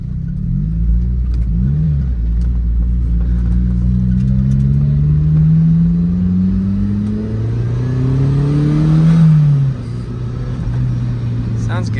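An unregistered car on a test drive revs up and down in long rising and falling sweeps, loud and close inside the cabin, with the engine droning between pulls.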